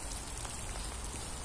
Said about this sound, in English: So now it's really raining.